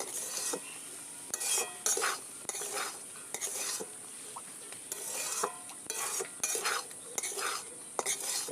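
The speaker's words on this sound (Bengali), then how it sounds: "লবণ হলুদ দিয়ে 7-8 মিনিট আমি ভেজে নিয়েছি।" Papaya flowers fry with salt and turmeric in a pan, a steady soft sizzle under repeated scraping and stirring strokes of a utensil against the metal, close and fairly quiet.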